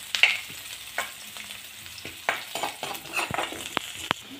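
Chana dal mixture with spices being roasted in a pan, giving a soft steady sizzle broken by repeated scraping strokes and light utensil clicks, close up, with no talking.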